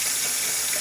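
Warm water runs steadily from a kitchen tap for making sourdough bread, a short, close, even splashing stream with no talk.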